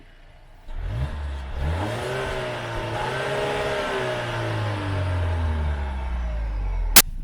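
A 2019 Volvo XC60 SUV engine revs up through rising gear shifts, its tone climbing and falling as it accelerates, steady and fairly close, then a sharp click near the end.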